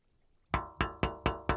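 Knocks on a hard metallic body: five sharp, evenly spaced raps after a short quiet pause, close and fairly loud, with no voices.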